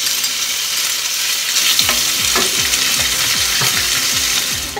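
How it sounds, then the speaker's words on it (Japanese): Bacon and meat fry in a preheated, oiled frying pan for a whole-pumpkin gratin: a steady close sizzle with repeated scraping and stirring clicks throughout, no talking. "そしたらベーコンやお肉から炒めていきます。"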